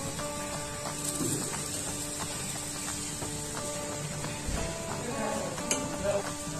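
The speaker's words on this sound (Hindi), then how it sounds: "इधर ये तल रहा है" Bakla dal pakode frying in ghee, a steady close sizzle and crackle of hot fat that runs throughout, with a few soft utensil taps and little speech.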